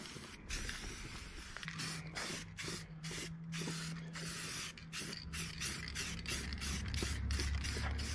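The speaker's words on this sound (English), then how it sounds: "Guy sprays some paint in the general direction of the bumper." Continuous hiss of paint and primer sprayed from a can onto a steel bumper, steady and close with short pauses, over a low hum and mechanical creaking in the background.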